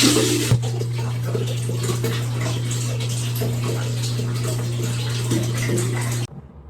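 Shower water runs in a steady, even rush close by under a low hum, then cuts off abruptly near the end.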